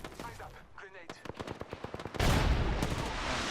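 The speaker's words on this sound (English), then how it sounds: "There's a sniper over there." Gunfire in the Apex Legends video game, a rapid burst of sharp shots followed by a loud sustained blast and rumble, heard under faint voices.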